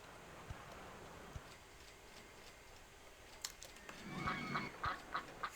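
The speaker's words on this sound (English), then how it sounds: "For all you guys that think I'm not quacky enough, I quack your duck." Cartoonish duck quacks from the RollerCoaster Tycoon video game, a few short bursts near the end of the clip over steady background ambience, with no talking.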